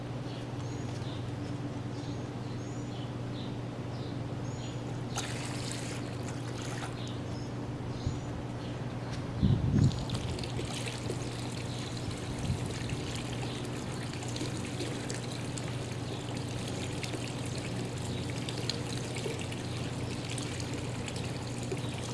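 A POPOSOAP pond waterfall pump runs for a swimming pool, giving a continuous wash of pouring, trickling water over a low steady hum, with a brief louder splash near the middle and no voices.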